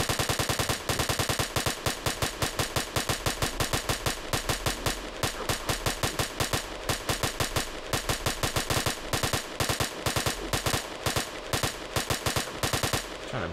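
Rapid bursts of automatic gunfire from a weapon in Halo Custom Edition, short volleys of closely spaced shots repeating steadily and loudly with almost no gaps, no voices.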